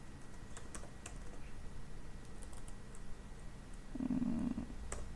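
Code being typed on a computer keyboard: faint, scattered key clicks in short bursts over a quiet room hum, with a brief low rumble near the end.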